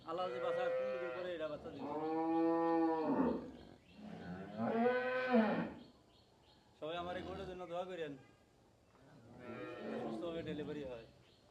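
A cow moos several times in long, loud, drawn-out calls separated by short pauses, close to the listener.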